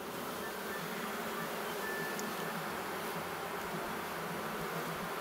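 Honey bees drone in a steady, dense buzz around an open hive as queenless colonies are merged frame by frame, a constant near hum with no talk.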